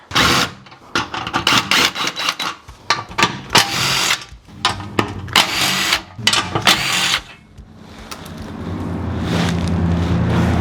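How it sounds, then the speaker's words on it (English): An impact or power driver with a 13mm socket spins steel skid plate bolts off a Jeep Wrangler JL in repeated loud, close bursts of whirring and rattling, pausing between bolts, with a steady rumble building toward the end. "It is a 13mm socket. So we're gonna go ahead and get this skid plate off here."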